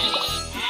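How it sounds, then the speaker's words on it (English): Sheep bleat on the tracks in a children's train game, a few wavering baas heard over a dense, bright background of music and game sound. "Sheep have wandered onto the tracks!"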